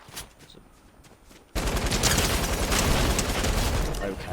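Sustained automatic light machine gun fire in Fortnite, a loud dense burst starting abruptly after quieter game ambience with faint earlier shots, continuing steadily to the end.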